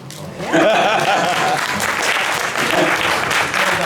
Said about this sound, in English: That's when you're supposed to applaud.